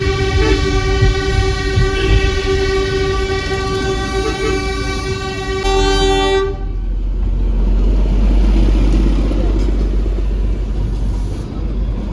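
A toy train sounds a long, loud, steady horn blast for about six seconds while its running noise rumbles underneath, and then the train rolls on as a low, close, continuous rumble.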